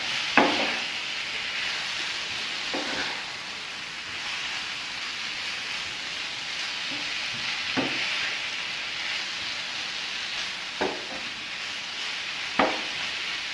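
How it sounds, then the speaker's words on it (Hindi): Chicken with bell peppers and spices sizzles steadily in a pan, with occasional near scrapes and knocks of a stirring spoon; no talking. "इनको अच्छी तरह से मिक्स कर लेने के बाद हम तकरीबन 2 से 3 मिनट के लिए हम इनको फ्राई करेंगे इन तमाम मसालों के साथ"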